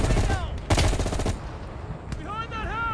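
A firefight in Call of Duty Black Ops Cold War brings a loud burst of rapid automatic gunfire, followed by a single sharp shot, with voices talking over parts of it.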